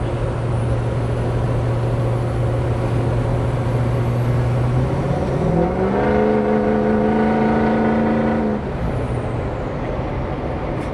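A lifted 2006 Ford F250 pickup cruising at about 60 mph, steady engine drone and road noise, with the engine note rising through a gear change midway before dropping back, heard from inside the cab.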